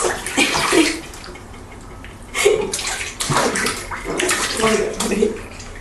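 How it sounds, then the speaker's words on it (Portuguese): A child's feet kick and splash water in a bathtub in close, irregular bursts of sloshing, with a voice at times. "tá molhando tua mãe com esses teus pezinhos inquietos"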